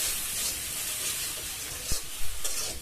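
Ground turmeric, chili, coriander, cumin and salt sizzle and hiss in hot oil in a pan for a fish curry with beans, potato and tomato, with a steady frying crackle and brief scraping stirs near the end.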